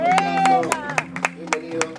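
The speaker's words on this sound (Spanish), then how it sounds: "Aplausos." A small audience claps at a Spanish-language entertainment show's welcome, a run of distinct, spaced claps mixed with voices, following a held sung or spoken tone.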